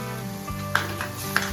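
Curry leaves, ginger and coriander paste sizzle softly in a pan while cooking for dal khichdi, with a couple of light metallic clinks of a utensil against the pan and no talking.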